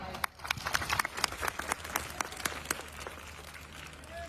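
An audience claps at a school event in Kairana, with scattered sharp hand claps over a low background hum, moderately loud and fading slightly toward the end.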